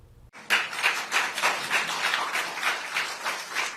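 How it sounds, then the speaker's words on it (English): Courtroom applause as convicted shooter Gregory Ulrich is wheeled away after sentencing, a burst of clapping from a small group, fairly close and steady with distinct individual claps. "Applause as Gregory Ulrich was wheeled away to spend the rest of his life in prison"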